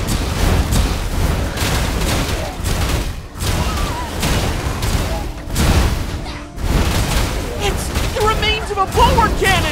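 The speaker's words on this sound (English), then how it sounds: "Cannons are still raining fire down on the hideout." Cannon fire in the video game Torchlight: Infinite, a near-continuous barrage of loud booming blasts and crackling impacts that drops out twice briefly, with game music and voices mixed in.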